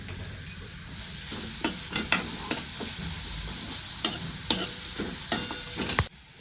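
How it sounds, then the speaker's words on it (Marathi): Grated carrots stirred and fried in ghee for carrot kheer, a steady sizzle broken by repeated scraping stir strokes, close and fairly loud, cutting off abruptly near the end. "गाजर चांगलं मी तुपावर हलवून घेतलेलं आहे"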